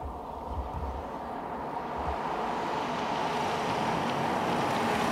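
A 2014 Acura RLX with all-wheel steering accelerates past, a broad rushing engine and road roar that swells steadily louder as it nears, mixed with wind noise and no talk.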